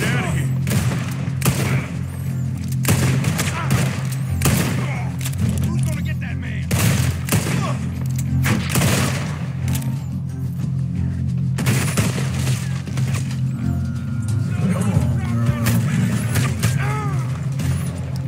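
Incoming gunfire hits the player in Red Dead Redemption 2, a loud, continuous barrage of cracking shots and rapid volleys over a low rumble, lasting throughout with little pause.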